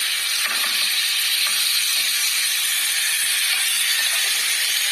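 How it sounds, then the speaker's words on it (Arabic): Steady close sizzle of a stuffed turnip leaf filling of dill, coriander, onion and garlic sautéing in a pan, a continuous frying hiss with faint stirring scrapes and no talk. "كل ده بيتشوح"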